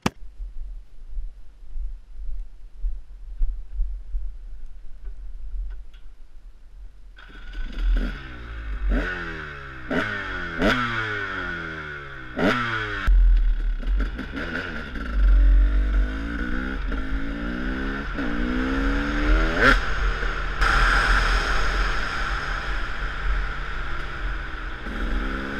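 A street-legal KTM two-stroke motorcycle idles, then revs and pulls away on the road, its engine climbing through several rising gear shifts and staying loud and close with a crackling exhaust.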